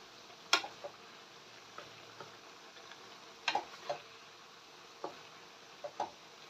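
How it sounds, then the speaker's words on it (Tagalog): Soft intermittent scraping and clinking of a spoon stirring papaya simmering in coconut milk, faint over a low background sizzle. "haluin lang natin para yung pong lambot ng papaya natin ay magpare-parehas"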